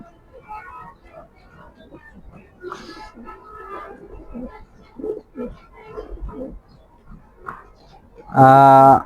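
Racing pigeons coo softly nearby while someone talks over them, and the sound ends in a brief, much louder burst.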